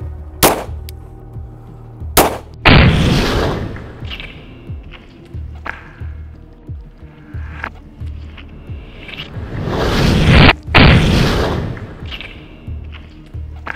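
Shots from a 9mm pistol loaded with hot Buffalo Bore +P+ ammunition fired into a torso test target, with several loud sharp reports spread across the stretch, including a pair of close blasts, among outdoor shuffling.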